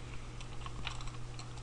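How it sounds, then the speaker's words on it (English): Typing on a computer keyboard while filling in a text-only product field, a quiet, steady patter of key clicks with a few sharper taps near the end, heard alone without talk. "typing it"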